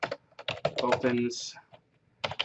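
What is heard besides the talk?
typing on a computer keyboard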